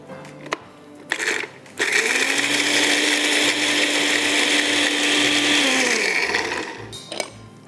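An electric blender grinds ginger, garlic and green chilies into a paste, a loud steady whir running for several seconds between a few short clunks and taps before and after.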